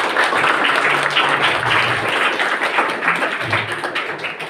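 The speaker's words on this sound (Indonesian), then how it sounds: "Tepuk tangan untuk kita semua" Steady audience applause fills the room, a dense wash of many hands clapping loudly throughout, close and continuous with no pauses.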